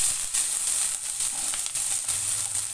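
Ginger, curry leaves and green chillies sizzling in hot oil in a pan, a loud, steady crackling hiss that runs continuously with small pops and no talk.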